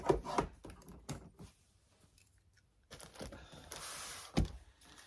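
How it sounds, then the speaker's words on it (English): Scissors cut a piece of paper off a journal page, giving quiet, irregular crisp snips and papery rustles, with a brief pause midway before more snipping and crinkling. "I just have to cut this part off. I'm using scissors right-handed."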